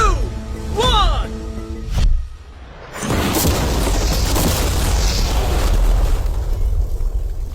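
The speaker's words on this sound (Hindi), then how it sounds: "चलो उड़ाते हैं एक नॉर्मल कार को और देखते हैं कि पैसेंजर्स बच पाते हैं या नहीं।" A normal car blown up by an explosive charge: a sharp, heavy blast followed by a long, loud roaring rumble and crackle that fills the rest of the clip, with a voice heard briefly before the detonation.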